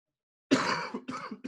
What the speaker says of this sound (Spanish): Perdón, no se me ha quitado la tos.